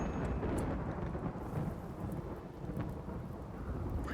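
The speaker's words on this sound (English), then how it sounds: "My duck got struck by lightning." A lightning strike in a video game sets off steady rolling thunder with a dense rain hiss, a continuous low rumble that stays fairly quiet and unbroken throughout, with no voices.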